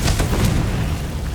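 Confringo blasting spell explosion in the Hogwarts Legacy video game, a loud, deep boom with a rumbling low-end burst that fills the short moment, close and dense.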